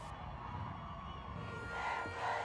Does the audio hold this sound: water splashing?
no